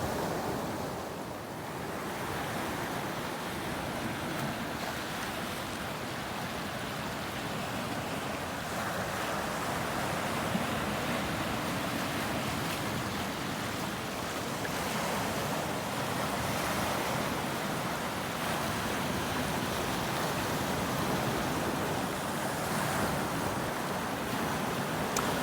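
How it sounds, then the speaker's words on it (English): Ocean waves break and wash continuously at Stone Beach, a steady, moderately distant surf roar with some wind and no talking. "There comes a wave."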